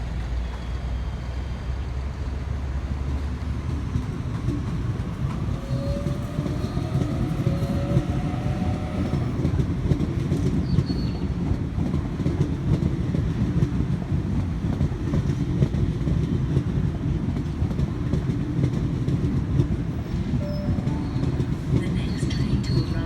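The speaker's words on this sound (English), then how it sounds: "V45 departing platform 1 for a central service." A Sydney Trains V45 set departs Penrith platform 1, a steady low rumble with faint clatter building as it pulls away, and a few squeals above the drone.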